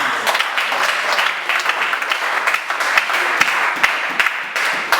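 A congregation at a French-language church service claps steadily, a dense, loud wash of applause with a few sharper individual claps standing out, continuing throughout.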